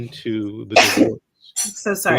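A single sharp, explosive sneeze bursts out mid-conversation during a family law discussion, short and close, with people talking just before and after it.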